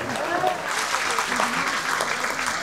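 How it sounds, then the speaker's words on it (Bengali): A political rally crowd claps in thanks for Dr. Yunus. The dense patter of clapping holds steady throughout, mixed with a faint voice and crowd murmur. "সেই সাথে ইউনূস সাহেবকে একটা হাততালি দিয়ে ধন্যবাদ দেন"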